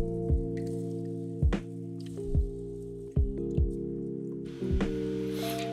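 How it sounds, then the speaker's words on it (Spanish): Cloudy rinse water is tipped slowly out of a bowl of basmati rice, giving a few separate wet splashes and drips spaced about a second apart over a low steady hum. "ir inclinando el bol para que vaya dejando caer ese agua sin que lleguen a caer granos de arroz"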